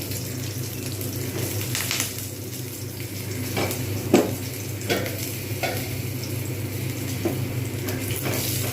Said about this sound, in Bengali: ভাজা হবে কিন্তু পুড়বে না সেই রকমভাবে আমাকে কিন্তু ভাজতে হবে